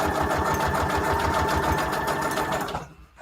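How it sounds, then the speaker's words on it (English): An electric sewing machine stitches a paper flower onto a paper page, running fast and close with an even, rapid mechanical rhythm, then stopping abruptly near the end. "let's go ahead and sew this flower on here"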